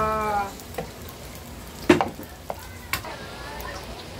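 Green onion is stirred into bagoong (shrimp paste) fried rice in a pan, a soft continuous sizzle with a few sharp scraping clinks of the spatula, close and fairly quiet, with no talk.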